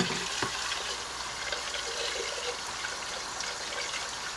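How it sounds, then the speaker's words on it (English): A paint spray gun being rinsed out with water in a sink, giving a steady hissing, trickling wash of running water with a faint clatter, continuous and close, with no talking. "You can watch me clean out that gun with water."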